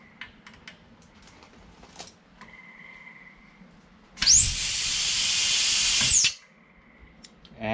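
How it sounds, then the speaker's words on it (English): Steady, loud hiss of air escaping at a DeWalt 27 gallon air compressor's retractable hose reel, lasting about two seconds after faint clicks and handling noises. "what you heard was the air escaping from up here"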